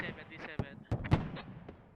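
Cannon fire from an LAV striking the side of an ACV in a military video game, a few sharp booming shots spread across two seconds under ongoing speech.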